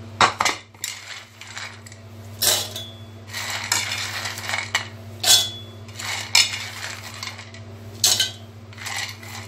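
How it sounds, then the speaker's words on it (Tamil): Roasted cashews, almonds and peanuts tumbling into a mixer jar, a run of rattling clinks and pours in several bursts over a steady low appliance hum. "இதை மிக்சியில் கொட்டிடலாம்."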